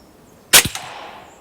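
A sharp, close snap of a 5.5mm pellet from a Hatsan semi-automatic PCP air rifle striking a target, followed by a quick smaller knock as it settles, then quiet.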